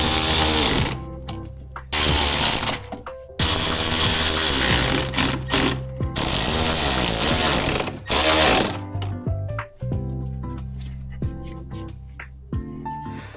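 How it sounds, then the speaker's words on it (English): Hose clamps on a Camaro ZL1 Rotofab intake get tightened with a ratcheting driver in loud, close bursts of rapid clicking, broken by short pauses and slowing toward the end. "Now I gotta tighten up all these clamps real quick."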